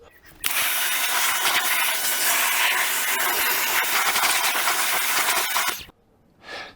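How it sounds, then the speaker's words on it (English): A Nilfisk or Karcher pressure washer sprays car wheels with a loud, steady hissing roar that runs for about five seconds and then stops abruptly. "you need to power wash them first with the aid of the Nilfisk or your Karcher"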